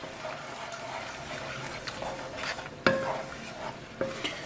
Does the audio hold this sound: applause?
no